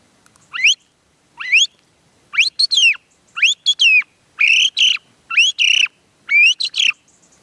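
A series of about eight short whistled phrases with rising, warbling notes, spaced evenly with brief pauses, imitating a song thrush's call.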